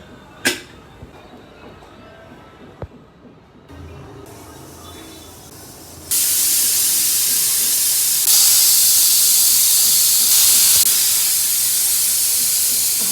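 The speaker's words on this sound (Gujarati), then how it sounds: "મસ્ત હલાવી કુકર 3 સીટી વગાડવા માટે મૂકી દઈશું" A pressure cooker steaming Gujarati-style vaghareli khichdi lets out a loud, steady hiss of steam that starts abruptly midway and keeps on to the end, after a few faint clicks and rustles.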